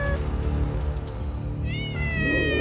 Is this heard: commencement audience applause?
no